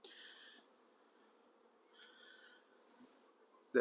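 Honey bees hum steadily around a spring hive during a colony check, a faint, continuous buzz in the background with a brief louder pass midway and a sharp knock at the end.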